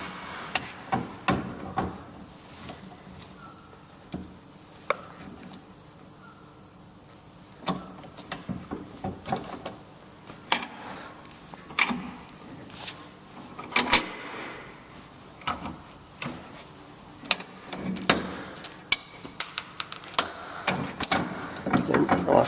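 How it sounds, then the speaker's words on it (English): Universal joint bearing cup on a car propshaft pressed into place in a vise: scattered sharp metallic knocks, clicks and clanks of varying loudness, irregular and close, over a quiet workshop background. "Finally we push the last cup into place."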